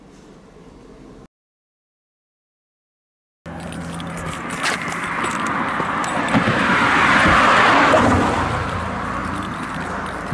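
A car drives at night near the Ena-kyo bridge in Gifu, its cabin and road noise swelling into a loud, steady rumble after a brief dead silence, with light rattling over the hum.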